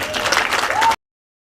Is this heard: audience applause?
yes